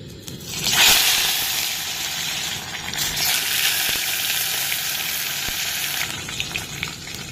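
Fish sizzles and crackles in hot oil with salt and turmeric, a dense, continuous frying hiss with occasional louder pops.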